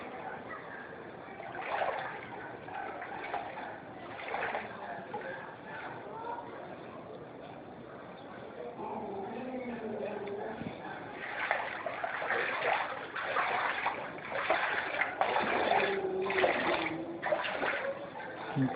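Floodwater left by Typhoon Maring runs steadily past a church in a flooded Imus, Cavite subdivision, giving a constant splashing, trickling wash under a voice speaking throughout.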